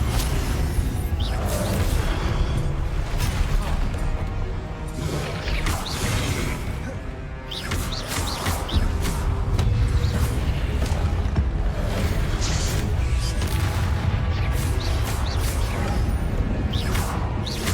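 Spell-combat blasts from Hogwarts Legacy keep crashing and booming in a dense, loud barrage, with whooshing casts and impacts layered over a constant roar.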